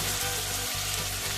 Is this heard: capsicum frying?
yes